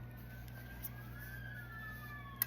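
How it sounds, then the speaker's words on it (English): Sirens wailing outside at a distance, faint rising and falling tones drifting over a low steady hum with a couple of small clicks nearby. "Sirens could be significant"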